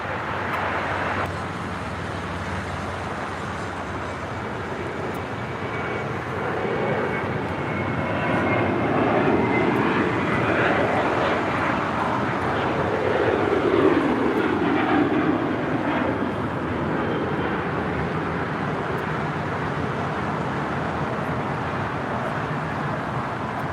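A United airliner takes off from runway 25 right at LAX, a broad jet-engine roar that swells through the middle and stays steady and distant-sounding, with no voices over it.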